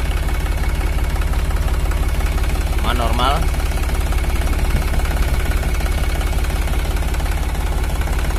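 An Iseki NT540F tractor engine idles in a steady, close, low rumble throughout, with a brief spoken phrase partway through.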